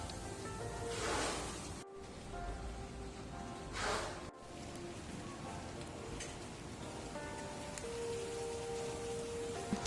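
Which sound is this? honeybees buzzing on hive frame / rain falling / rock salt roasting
rain falling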